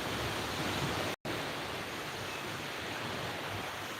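Sea waves at Khanom beach in Nakhon Si Thammarat, a continuous hiss of surf washing in, loud and close, broken once by a brief dropout of total silence.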